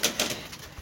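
Golden pigeons in a loft give short soft coos, a few brief calls close by within a second, with faint rustling between them.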